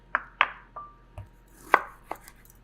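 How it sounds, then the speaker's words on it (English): A knife slices a lime half into garnish slices on a board, giving about six separate crisp chops with brief gaps between them, close and clear with no talking. "So I'm gonna keep 1 half here and sort of slice it as garnish."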